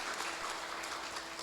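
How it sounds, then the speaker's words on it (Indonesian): An audience at a church service claps together, a brief, dense wash of applause heard at some distance and fairly quiet. "Kita berikan tepuk tangan dong"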